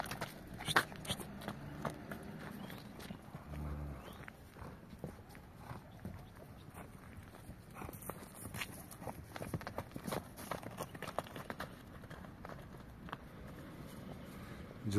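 Horse hooves clip-clop in an uneven, running rhythm on warm spring ground as the animal is led out and exercised, steady mid-distance steps with light shuffling between them.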